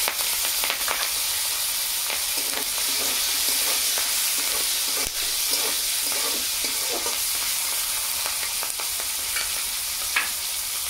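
Whole spices (clove, cardamom, cinnamon, a little cumin) with capsicum, green chilli and onion sizzle steadily in hot oil, a close, dense crackling hiss with occasional stirring scrapes and pops throughout.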